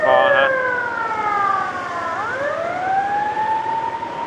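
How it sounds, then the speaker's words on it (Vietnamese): An ambulance siren on a city street in Saigon's Cầu Kho area, its wailing tone rising and falling continuously and loud nearby, over a steady hum of road traffic. "Tiếng xe cấp cứu, tiếng xe rất là não nề."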